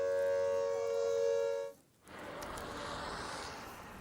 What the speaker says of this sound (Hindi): किस तरह से एयर रेड सायरन्स की आवाज यहां गूंज रही थी